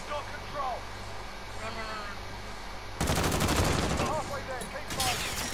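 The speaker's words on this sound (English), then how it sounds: "they're all shooting over here" Rapid automatic gunfire erupts mid-match in Call of Duty Modern Warfare multiplayer on PS4, loud bursts of rattling shots replacing quieter ambient battle noise and continuing in dense volleys under faint background voices.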